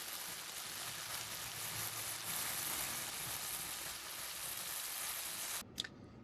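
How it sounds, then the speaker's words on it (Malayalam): Fish frying in a pan at home before lunch, a steady dense sizzle that fills the clip at close range, with a brief clatter near the end as the sizzling drops slightly. "I started frying the fish because lunch കഴിക്കാൻ ടൈമായി"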